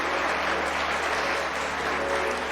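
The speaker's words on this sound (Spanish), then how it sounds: "Y un aplauso al Señor." A church congregation applauding after a sermon's closing prayer, a dense, steady wash of clapping from many hands filling the room without pause.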